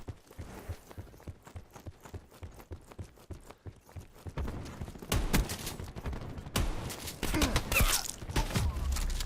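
Rapid bursts of gunfire from Black Ops 4 during a beta match, shotgun blasts among them, with sharp repeated reports building louder and denser toward the end amid game effects.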